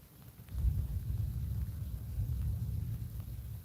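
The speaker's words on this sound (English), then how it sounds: "Oh, listen to that thunder," Thunder rumbling during a thunderstorm over northwest England, a low, rolling rumble that swells after a brief quiet start and stays steady and distant, with wind noise on the microphone.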